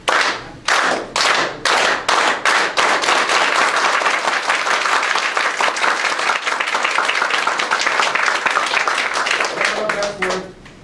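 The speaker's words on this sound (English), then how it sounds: "everybody started clapping, and it went like this. And it increased." A rally crowd performs a unity clap, starting with slow, separate, loud group claps that quicken steadily until they merge into continuous roaring applause, then fade out under a voice.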